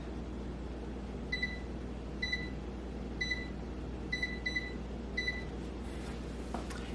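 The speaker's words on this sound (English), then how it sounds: "I'm going to set the timer on my microwave for 12 minutes" Microwave oven keypad being set for a timer, a series of short high electronic beeps in quick succession over a low steady kitchen hum.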